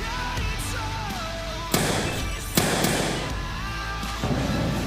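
Butane gas ignites in a rocket-like explosion, with three sharp, loud blasts over a continuous roaring rush.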